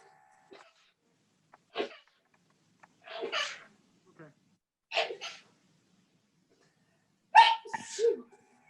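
Several sneezes and sniffs come from a person during a zoning board meeting, sharp and close, spaced apart in quiet gaps, the last one loudest with a short follow-up.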